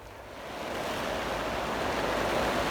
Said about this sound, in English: So you can probably hear the rain and wind outside.